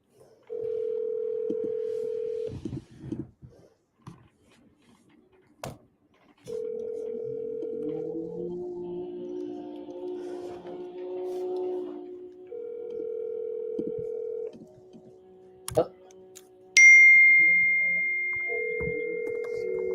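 A telephone dial tone sounds in steady bursts, then a call is placed with a sequence of short dialing beeps, ending in a higher, sharper tone near the end.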